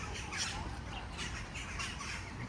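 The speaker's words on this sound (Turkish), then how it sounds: "Kargalar." Crows feeding at a zoo in Bulgaria give several faint, scratchy caws and squawks over quiet outdoor background noise. No voices.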